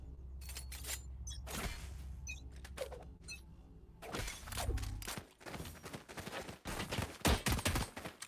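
Gunfire in Valorant during a competitive collegiate esports match destroying a Killjoy turret, loud bursts of rapid shots and sharp impacts in several clusters, with mechanical clatter between volleys.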